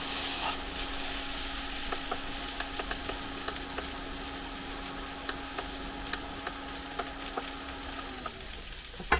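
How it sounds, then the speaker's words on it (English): Noodles for prawn chow mein frying on high heat in a pan, giving a soft, steady sizzle with light scattered ticks and stirring clicks before it fades near the end. "I'm going to turn the temperature up again. And let those noodles get nice and warm."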